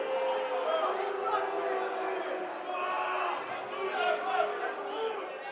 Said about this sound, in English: he's hearing it here from the home crowd